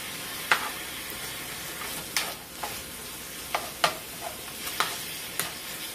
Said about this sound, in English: You're going to have to brown up 1 pound of ground beef.